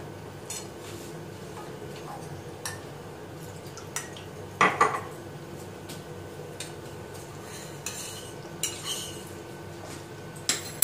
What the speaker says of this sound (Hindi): कॉर्नफ्लोर को घोल लेंगे।